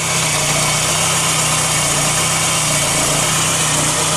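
A Volkswagen Scirocco GTX fitted with a DX engine idles steadily up close, giving a constant loud hum with a low mechanical drone and a light buzzing vibration throughout, with no voices.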